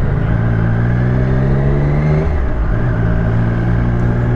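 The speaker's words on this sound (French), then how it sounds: "Les passages de rapport sont vraiment smooth, on va dire ça comme ça." A 2020 Triumph Street Triple S motorcycle accelerating hard, its loud engine climbing in pitch, briefly dipping at a smooth gear change midway, then pulling up again, close and continuous with no talking.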